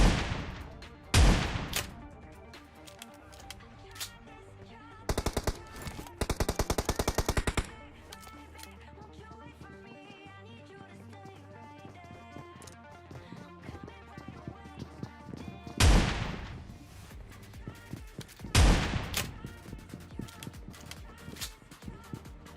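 Gunfire from an S686 shotgun in the PUBG video game: a few loud, sharp blasts spaced apart, plus a dense rapid burst, over quieter in-game ambience.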